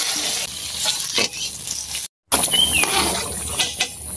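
Country chicken and potatoes braise in a pan with a continuous sizzle, broken by scraping stirs, one brief silent gap and a faint high squeak partway through.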